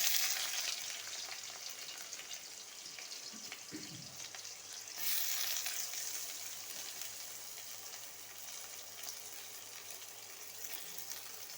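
Chopped onions fry in hot oil in a pan for ghugni, giving a steady close sizzle throughout with a brief stir or clatter near the middle, and no talk.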